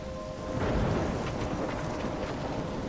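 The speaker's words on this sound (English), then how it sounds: "I'm trapped in a storm?" Storm in the video game Life is Strange: a steady wash of heavy rain with a deep thunder rumble swelling near the start, loud and continuous, without speech.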